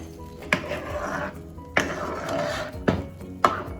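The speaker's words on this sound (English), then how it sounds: "Stir it a little" Sauce being stirred in a pan for enchiladas, with four sharp clacks of a utensil against the pan spaced about a second apart over a steady scraping, bubbling bed; no talking.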